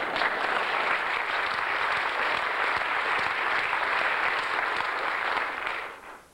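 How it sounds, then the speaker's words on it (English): Steady, dense applause from an audience at a book launch fills the room evenly, then fades out at the end; no voices stand out. "You were supposed to applaud now, but you've been applauding as we went through"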